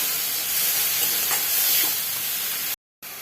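Onions, chillies and seeds stir-frying in a pan over a gas flame make a steady, close hissing sizzle with scraping stirs, cutting briefly to silence near the end, with no voices.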